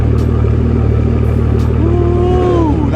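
A catless 5.0 engine with a ROUSH axle-back exhaust rumbles loudly and steadily up close, its deep drone rising in pitch as it revs.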